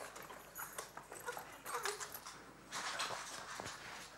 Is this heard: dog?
yes